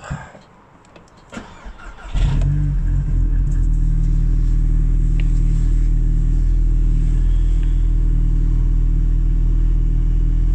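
An Audi TTS engine with a modified exhaust cranks briefly on a cold start, then catches and settles into a loud, steady low idle rumble that continues to the end.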